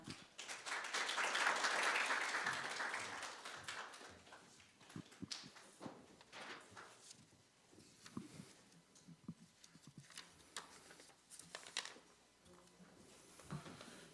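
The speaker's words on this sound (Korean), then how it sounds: "여러분 차관님을 따뜻한 박수로 맞아주시기 바랍니다" A burst of applause from a conference audience swells and fades over a few seconds, then scattered taps and room noise linger.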